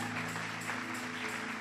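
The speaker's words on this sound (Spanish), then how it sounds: "Un aplauso fuerte a Jesús." Applause during a Spanish-language church service, steady and dense, with a crowd clapping continuously and fairly quietly throughout the short stretch.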